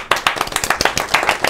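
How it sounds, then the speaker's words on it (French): Several players clap together to celebrate in the Sync or Swim party game, a quick, close, slightly uneven burst of hand claps lasting about a second and a half. "l'application vous applaudit"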